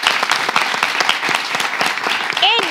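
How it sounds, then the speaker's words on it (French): An audience at a French debate show applauds for a cause, dense steady clapping from many hands at close range, with a brief voice near the end. "On applaudit pour ça"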